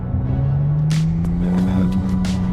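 An electric sports car switched into track mode, its motor rising in a steady whine that climbs slowly in pitch, loud and close over road rumble, with a few sharp clicks or ticks on top.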